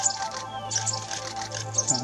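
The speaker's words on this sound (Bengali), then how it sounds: "পাখিটির ইংরেজি নাম গ্রিন টেইলড সানবার্ড" A green-tailed sunbird gives short, high, thin chirps in quick clusters, repeated several times over a quiet low hum, fairly close and clear with no talking.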